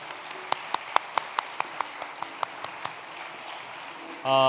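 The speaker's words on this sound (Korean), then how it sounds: "하나님께 다시 한번 감사의 박수 올려드립시다" Congregation applause in a Sunday morning church service, heard as about a dozen sharp, evenly spaced claps in a slow rhythm that fade a little, before a louder tonal sound starts at the end.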